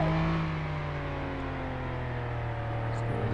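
Fire truck in the video game Flashing Lights racing to a fire, a loud steady engine drone with a rising and falling whine, heard alone.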